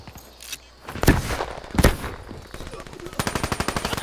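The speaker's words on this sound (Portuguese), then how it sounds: "Todo mundo atirando no maroto." Video game gunfire, with a few heavy single shots followed by a rapid automatic burst, loud and close, while a voice talks excitedly in between.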